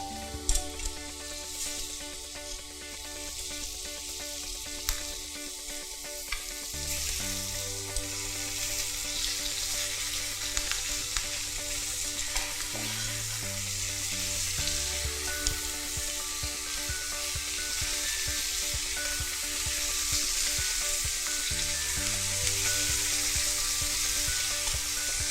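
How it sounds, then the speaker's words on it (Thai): Vegetables sauté in butter over moderate heat, giving a steady close sizzle throughout with occasional stirring scrapes and soft shifts in tone, with no talking. "ใส่เนยลงไปนะครับเพื่อให้ผักมีความหอมนะครับระวังอย่าใช้ไฟร้อนนะอย่าใช้ไฟแรงมากนะครับเดี๋ยวผักจะไหม้"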